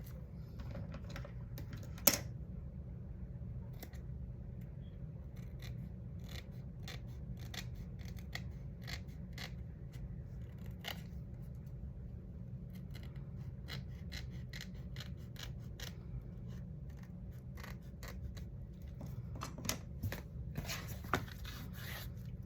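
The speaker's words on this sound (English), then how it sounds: "This paper here, I think I need to trim." Scissors trim paper for an altered paper towel roll flipbook, giving a long run of crisp, close snips and rasping cuts over a quiet room hum, with no talking.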